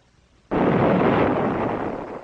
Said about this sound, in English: As the tank explodes, the copper tubing and control lines are ripped up into the air with the tank.